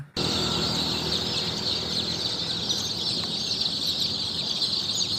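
A dense, continuous chorus of many chicks cheeping, high-pitched and overlapping, steady and close throughout with no voices.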